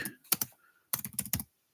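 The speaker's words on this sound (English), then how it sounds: "Oh, my typing's slow, isn't it?" Keys clatter on a computer keyboard in two quick bursts of rapid taps separated by a short pause, close and fairly soft, with no one talking.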